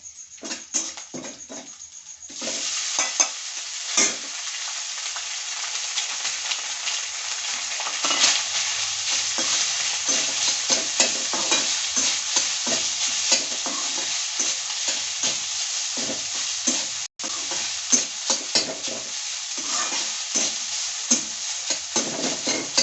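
Cooked rice fries in a pan, a constant loud sizzle broken by frequent scraping, stirring strokes close up, with no voices.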